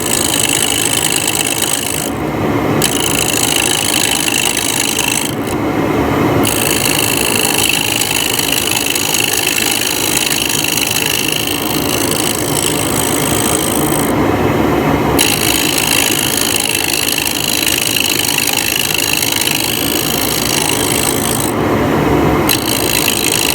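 A carbide tool cuts a wooden chess knight bottle stopper spinning on a lathe, producing a loud, continuous rasping scrape that breaks off briefly several times as the tool lifts from the wood. Nobody speaks.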